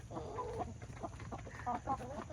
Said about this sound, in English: There we go, Rooster Mike. Say what's up, Rooster Mike.